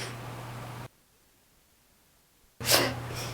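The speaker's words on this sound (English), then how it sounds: "I'm going to sneeze again." A single human sneeze bursts out loudly and close after a stretch of near silence, preceded by a brief breathy intake.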